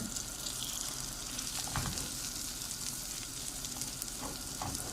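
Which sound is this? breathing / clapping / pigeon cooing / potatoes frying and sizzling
potatoes frying and sizzling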